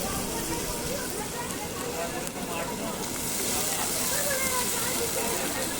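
Steady hissing sizzle of ginger, garlic and dried chili paste frying in hot oil, continuous and fairly loud throughout, growing slightly brighter toward the end.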